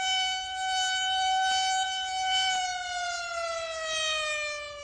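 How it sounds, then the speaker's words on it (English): The noon siren at Lackland Air Force Base, Texas, wails steadily from a distance, a long rising-and-falling civil defense tone recorded in 1969, heard alone. "Lackland's noon siren."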